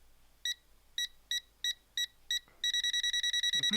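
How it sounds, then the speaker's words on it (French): A Tesmen multimeter held near a live wire gives short electronic beeps, first spaced about every third of a second, then speeding into a rapid continuous pulsing, with a faint rustle near the end. "Donc là, ça commence à biper."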